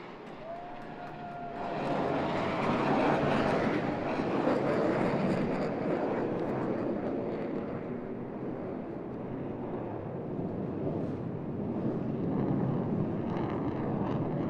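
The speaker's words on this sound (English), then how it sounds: "Blue Angels 5 and 6 are converging on center point to demonstrate the rapid roll rate of the F-18's fly-by-wire flight control system." Blue Angels F-18 jets performing opposing rolls over an airshow at Pensacola Beach produce a broad, distant roaring rumble that swells and lingers, mixed with wind noise.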